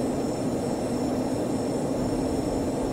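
Airliner jet engines spooling at high, steady thrust during a takeoff roll in a flight simulator, a loud unbroken roar with a thin high whine running through it and no talking.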